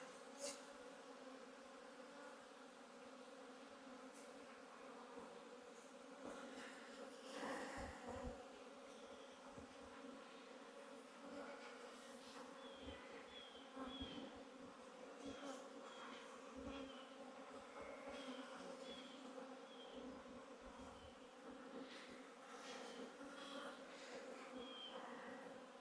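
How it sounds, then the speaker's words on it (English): Honey bees around winter hives buzz continuously in a dense drone, with individual bees passing closer now and then, rising and fading against the hum. "but the bees are everywhere."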